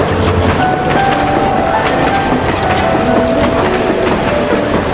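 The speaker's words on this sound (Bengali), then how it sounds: "ট্রেনের ঝিকঝিক আর মানুষজনের কোলাহলে শব্দে" A train clatters along the rails in an animated cartoon, a loud continuous rumble with repeated rhythmic clicks and knocks throughout, close and steady, with no voices over it.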